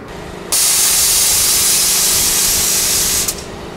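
Airlift air ride suspension on a Ford Focus RS dumping air, a sudden loud sharp hiss that starts abruptly, holds steady for nearly three seconds, then cuts off with a small puff as the car drops.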